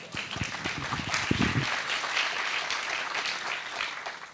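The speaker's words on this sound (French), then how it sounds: "Ça mérite un petit applaudissement quand même." A crowd applauding steadily, a dense wash of many hands clapping, with a few louder claps near the start.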